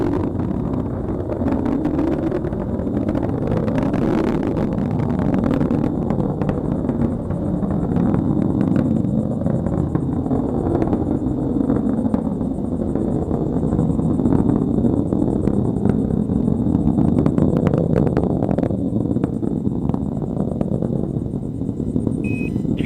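An Atlas rocket climbs with Boeing's Starliner on its first crewed launch toward the ISS, giving a steady, loud, low rumbling roar that holds unbroken through the whole stretch.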